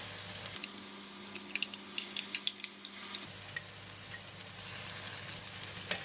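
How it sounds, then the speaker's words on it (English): Curry paste frying in a pan with cauliflower and chickpeas, a steady soft sizzle with scattered light spatters and stirring scrapes, fairly quiet and close, with a low steady hum underneath and no talking. "We're going to fry the curry powder with all the ingredients until it releases a very nice aroma."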